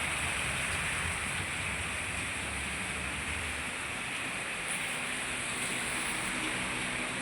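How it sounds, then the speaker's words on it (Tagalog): Steady rain falls continuously on a rainy Sunday, an even hiss with no pauses, moderately near and alone without talk. "Maulan, no? Maulan dito."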